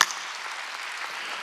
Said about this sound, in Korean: 박수냐 박수